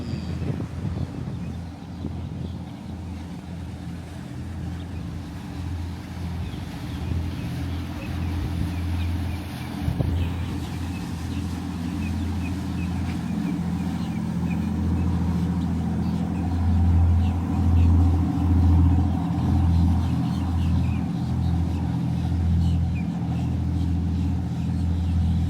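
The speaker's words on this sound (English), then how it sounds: "When you get one of those big fishing charters rolling through here and the exhaust, it just echoes, man." A big fishing charter boat passes through a Boynton Beach, Florida inlet, its exhaust a deep, building rumble that grows louder and echoes over wind and water noise.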